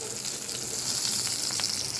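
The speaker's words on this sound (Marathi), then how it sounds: "कढीपत्ता तडतडला की थोडीशी कोथिंबीर टाकून घेऊ फोडणीमध्ये" Curry leaves and fresh coriander crackling in hot oil during a tempering for a mushroom and bottle gourd curry, a steady close-up sizzle with scattered small pops and no talking.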